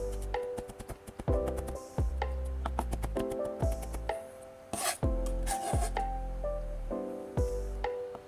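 Knife chopping thin ginger slices into tiny pieces on a cutting board, a close, steady series of sharp taps with a few louder knocks and scrapes along the way.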